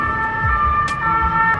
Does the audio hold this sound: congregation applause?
no